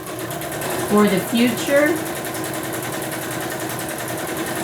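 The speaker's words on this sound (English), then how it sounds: "I'll wait till I get through stitching this" A sewing machine stitches a fall swap journal, a steady close mechanical whir running throughout beneath a short stretch of speech near the start.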